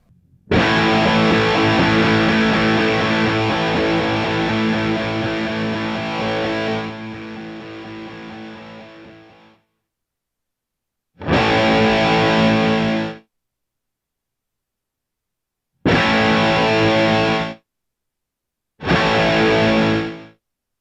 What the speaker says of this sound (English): I was playing the chord with it down and then just pressing the volume pedal off